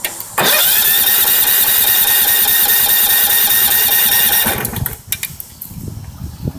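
A small engine being started and failing to fire: loud, close mechanical churning that runs steadily for about four seconds, then cuts out, leaving quiet shuffling.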